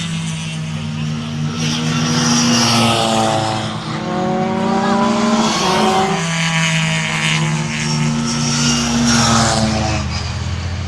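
A historic Mini rallycross car roars past trackside at Lydden Hill, its engine note rising and falling loudly as it approaches, passes close and pulls away, with a second surge of revs near the end.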